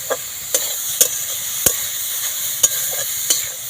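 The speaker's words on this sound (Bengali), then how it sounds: "এখন আমি দিয়ে দেবো গ্রেট করে রাখা গাজর গাজরগুলো দিয়ে ভালো করে একটু নাড়াচাড়া করে নেবো" Grated carrots stirred in a pan for Bengali carrot halwa, with a steady low sizzle under repeated sharp scraping taps of a spoon against the pan, spaced at irregular intervals.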